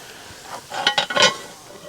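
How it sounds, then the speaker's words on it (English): Fish frying in butter in a cast iron pan over a campfire, a brief sizzling crackle that swells in a few bursts as the food is stirred, then settles. "Listen to that sizzle."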